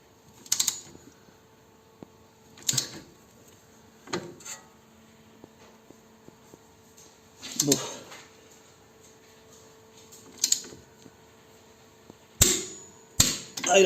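A torque wrench tightening a BMW 330ci shock absorber to 80 Nm gives sharp metallic clicks and clanks spaced every couple of seconds, ending in a louder cluster, close in a quiet workshop.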